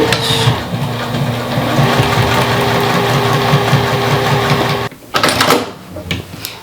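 Sewing machine running a steady back stitch through denim for an old-jeans jacket, a close mechanical hum with rhythmic needle thumping that stops abruptly, followed by a few handling knocks.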